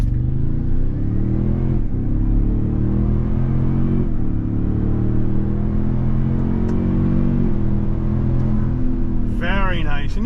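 A 2023 Toyota Sequoia Platinum pulls away from a stop, its engine note rising steadily and rumbling from inside the cabin for about ten seconds, with a brief high chirp near the end.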